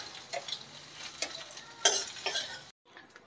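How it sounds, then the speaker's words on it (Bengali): Eggs fry in oil in a pan, with soft sizzling and a few scraping stirs and utensil clicks at moderate distance, quiet overall before a brief silent gap. "ডিমটা ভাজা হয়ে গেছে"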